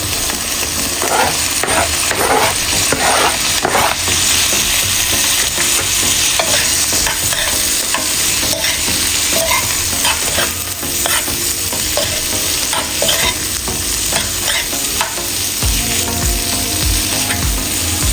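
Peppers and onions for curry chicken rasta pasta frying in a pan, giving a loud, dense sizzle that stays constant throughout, with rapid scraping and clattering stirs close by.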